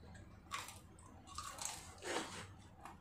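Crispy fried pork ear crackers for Bikol-style dinakdakan crackling and crunching close up in a few separate bursts, each a short dry crisp snap, with quiet pauses between them.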